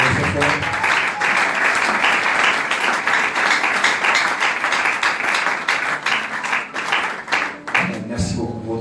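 A church congregation applauds continuously for several seconds, a dense steady wash of clapping that thins out near the end, with some voices mixed in.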